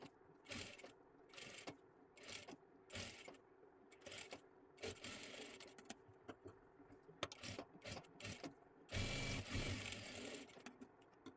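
A sewing machine stitches a katori blouse in short, quiet bursts of rapid needle chatter separated by pauses. A longer, steadier run comes near the end.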